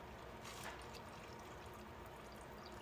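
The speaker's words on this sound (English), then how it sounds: "Can you pour the water up to that line?" Water poured from a container into a microwaveable Kraft mac and cheese cup, a steady close pouring and trickling wash that runs for about three seconds with no talk over it.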